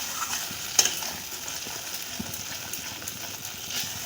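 Cashew paste frying and being stirred in a pan with whole garam masala, a soft steady sizzle with scraping stir sounds throughout and one sharp clink near the start.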